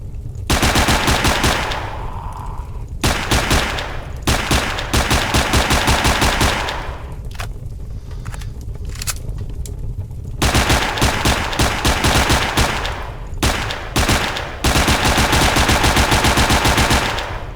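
Rapid bursts of automatic gunfire as guns shoot at zombies in the video game Dead Hospital, long loud rattling strings of shots with short pauses between them and no talk.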